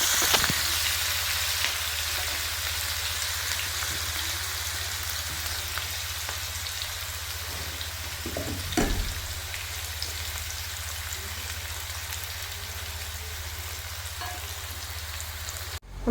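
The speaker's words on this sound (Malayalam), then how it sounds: "നമുക്ക് കുറച്ച് ഇട്ട് ഒന്ന് ഫ്രൈ ചെയ്തെടുക്കാം" Onions frying in hot oil for biryani, a loud close continuous sizzle with a dense crackle that runs steadily throughout, plus one brief stir or scrape partway through, no talking.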